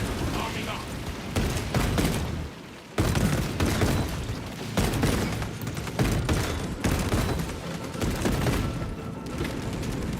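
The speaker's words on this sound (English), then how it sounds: "Releasing frag grenade." A frag grenade blast amid dense, loud combat in Warhammer 40,000: Space Marine 2, against Tyranids and spore mines, with a sharp boom cutting through continuous gunfire and rumbling mechanical noise while voices talk over the battle.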